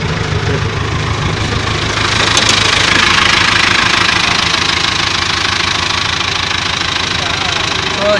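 A JCB backhoe loader engine idles with a steady, loud diesel knock as the machine is shifted from neutral into reverse, the running engine continuous and close throughout, with faint speech underneath.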